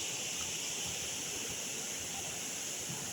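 Steady rushing river water flowing in a dense forest, continuous and even with no voices over it.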